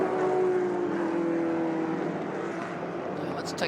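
A Shelby race car at full throttle climbs a hill at a car event, its engine a steady loud drone with a sustained tonal whine that fades slightly toward the end.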